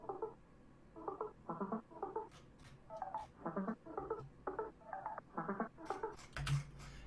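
In the drop of a tech house track, a synth arpeggio plays a bouncy pattern of short plucked notes. Pitch shifts and sparse percussive hits sit under it, at moderate level.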